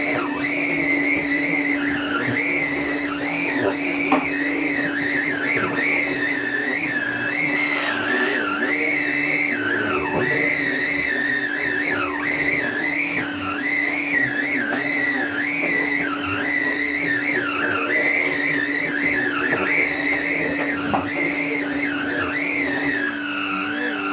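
A Karcher T9/1Bp vacuum cleaner running continuously with a powered turbohead attached, a loud steady motor hum with a high whine that wavers up and down throughout.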